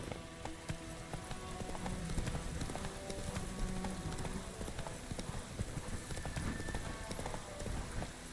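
Continuous dense clip-clopping of horse hooves at a quick gallop-like pace in The Witcher 3, loud and close throughout, with game ambience and faint voices mixed underneath.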